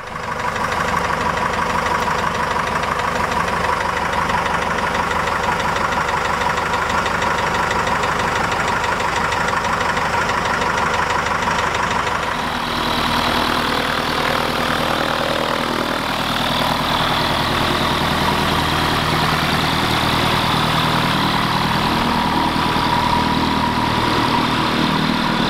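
118HP O-200 aircraft engine runs steadily at close range, a continuous rough rumble with a noticeable shift in tone partway through, no voices over it.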